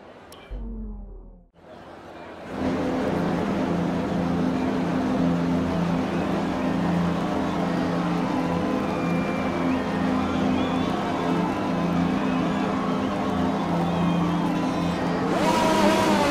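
Formula 1 car engines in the F1 2020 video game drone loudly at the race start. After a short quiet lead-in, a dense, sustained high-revving roar with steady harmonic whine sets in and swells slightly near the end.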